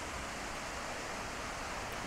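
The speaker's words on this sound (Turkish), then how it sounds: "nehir gür akıyor" The Arda river in Bulgaria runs full and strong after heavy rains, a steady broadband rush of water that stays loud and even throughout, with no voices over it.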